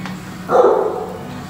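At a humane society shelter, a dog in a kennel gives a single short, mid-pitched bark that trails into a whine. The sound is fairly close and clear over a quiet room.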